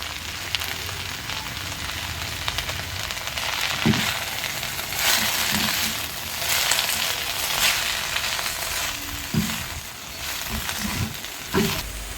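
Greens with sprouted urad dal sizzle and fry in a pan in a village kitchen, a steady close crackling hiss with occasional soft stirring knocks, no talk.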